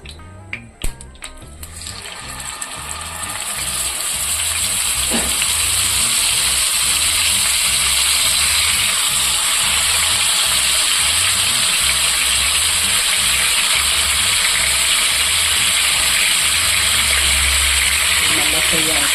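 Chicken leg pieces fry in hot oil for a Tamil-style leg piece gravy, a loud, continuous hiss and crackle that swells after a few clattering clicks at the start and holds steady throughout.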